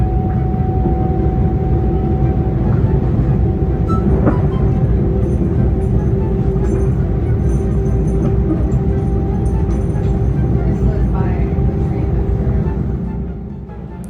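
Steady loud rumble and rattle of a moving Long Island Rail Road commuter train heard from inside the car, a continuous drone with faint clanks, fading slightly at the end.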